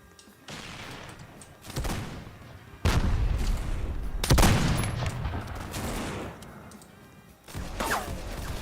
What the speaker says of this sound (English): I'm gonna try to mortar them